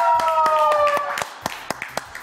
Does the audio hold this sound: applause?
yes